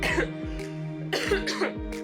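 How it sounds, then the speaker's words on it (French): A person coughs several times in quick, raspy bursts, close by, with some throat clearing between the coughs. "Tu peux entendre que je tousse toujours."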